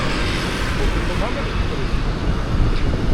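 Steady, loud wind buffeting the microphone outdoors in Vietnam, with low rumbling gusts throughout, no clear speech.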